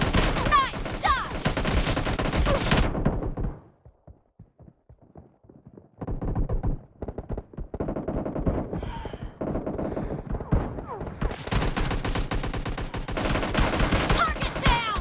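Kar98 sniper rifle gunfire in a PUBG Mobile Lite team deathmatch, heard as loud, dense bursts of battle noise that drop to near quiet for a couple of seconds midway before the shooting and clatter surge back.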